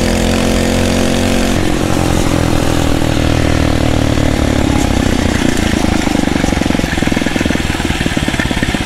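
A 79cc Phatmoto Rover motorized bicycle engine runs hard off road, a loud, continuous, buzzing two-stroke-like drone that rises and sputters with throttle changes throughout, close and steady with no talk.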